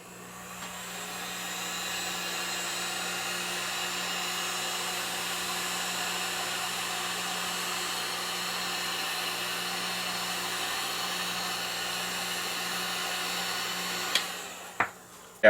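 A heat gun shrinking heat shrink tubing over wires blows a steady, close airy whir with a low hum beneath it, then cuts off near the end with a couple of clicks.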